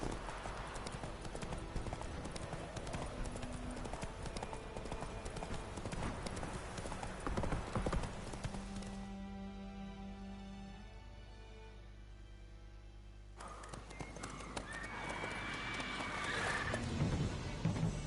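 A horse in The Witcher 3 game gallops with rapid rhythmic hoofbeats and neighs, set against game music and ambience. The hoofbeats dip briefly midway and then return.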